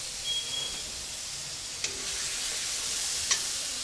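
Green chillies and ginger sizzle in a hot pan, a steady soft frying hiss with a couple of brief clicks from stirring and no talk.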